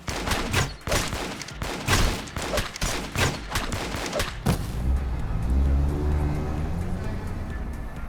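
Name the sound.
truck-like vehicle sound from video game Lobotomy Corporation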